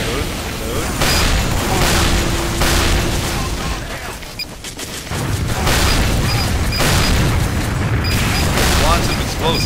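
Explosions and gunfire in a chaotic Team Fortress 2 battle, loud dense booms and bursts repeating across the whole stretch, with a brief lull in the middle, under frantic voices talking.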